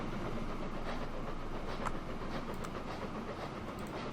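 A freight train rumbles along steadily in a Transport Fever 2 railway scene, its wheels giving a dense, continuous roar with faint clickety-clack accents throughout.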